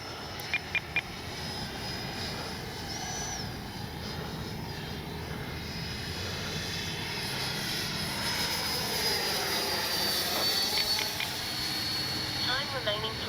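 An FMS Integral 80mm electric ducted-fan RC jet flies at about half throttle, a steady whooshing fan roar that swells slightly as it passes, heard outdoors from a distance with wind noise.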